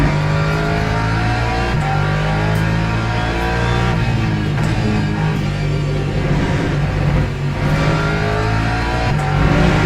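Race car engine in the Le Mans Ultimate sim-racing game heard from the cockpit, a loud continuous drone rising and falling through repeated revs and gear shifts, alone without speech.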